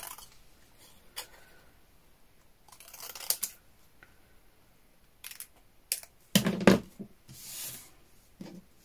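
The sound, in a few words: cutting paper card into a rectangle with scissors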